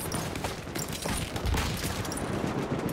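Battlefield 1 battle ambience on the Brusilov Keep map, distant overlapping gunshots and scattered fire rumbling steadily through the scene, loud and busy with no voices.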